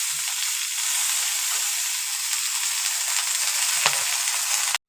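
Cauliflower and beans frying in a pan, a loud, steady sizzle of hot oil that holds evenly with faint stirring scrapes, then stops abruptly at the end.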